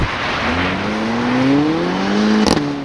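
Mercedes-AMG 600hp car on a winter drifting course with its exhaust in loud mode through straight pipes, the engine note rising and falling in pitch as it revs, with a brief sharp burst near the end, loud and close.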